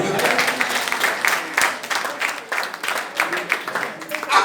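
A church congregation applauding, dense rhythmic clapping that swells and dips in waves, with voices mixed in beneath.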